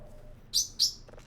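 A bird chirps loudly indoors, two bright, sharp calls in quick succession, close to the listener over quiet background noise.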